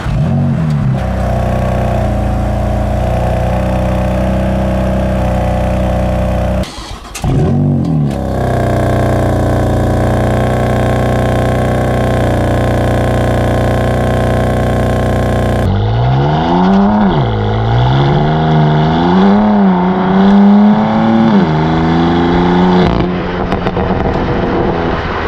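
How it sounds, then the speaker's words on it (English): A BMW M4 CS engine runs loud and close with a steady, throaty drone, then revs repeatedly in rising and falling sweeps. No voices are heard. "You're gonna get to hear the car start up, which is a little bit different to my M3, a little bit of a nicer tone"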